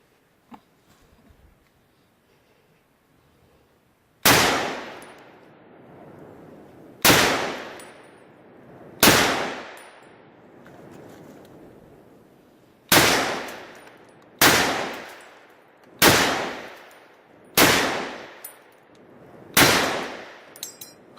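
Heavy rifle shots of M2 armor-piercing tungsten-core and 7.62 rounds striking a level 8/9 ballistic barrier on a range: eight single loud blasts with ringing decays, spaced irregularly a second or two apart after near silence.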